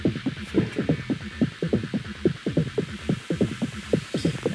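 A techno synth texture run through one stage of distortion and a filter with no delay or reverb, pulsing in quick throbbing low bursts with a steady rhythmic pattern and a faint hum underneath.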